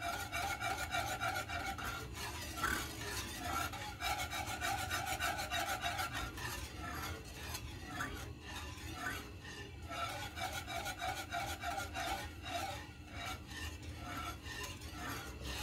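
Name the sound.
stirring custard in a pan for an English trifle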